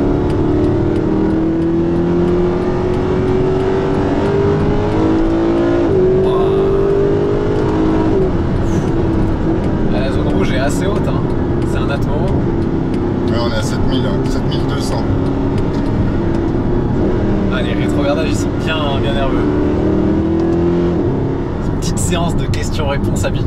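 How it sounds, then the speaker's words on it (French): A Mercedes SLS AMG's naturally aspirated V8 engine rumbles and revs up close, with a rising transmission whine and people talking over it. "C'est la transmission qu'on entend là?"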